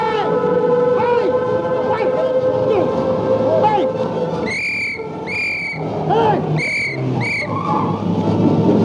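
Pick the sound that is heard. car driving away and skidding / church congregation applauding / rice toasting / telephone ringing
car driving away and skidding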